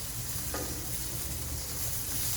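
Steak sizzling steadily on a flat-top Blackstone griddle for a home hibachi meal, a loud continuous hiss and crackle with a short brighter spit partway through.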